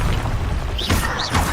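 The Incendio fire spell from Hogwarts Legacy bursts out as a dense, loud roar with a low boom and rising whooshing sweeps, short and close.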